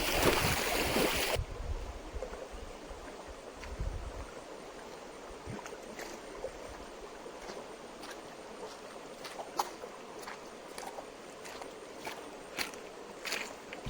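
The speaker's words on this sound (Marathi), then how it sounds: "आता इकडून मस्तपैकी व्हाळातून चालत जाऊया पुढे पाणी खूप आहे अजून व्हाळाला" Footsteps wade through a flowing jungle stream, with a steady rush of water and repeated splashy steps close by, and no talking.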